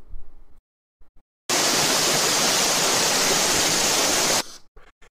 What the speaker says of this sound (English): I've got a feeling the waterfall might come through a bit loud